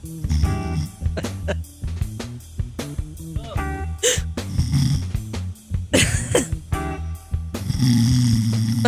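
A man imitates snoring with his voice, making a run of exaggerated snorts, throaty rattles and gasps across several seconds, loud and close, with brief podcast chatter mixed in.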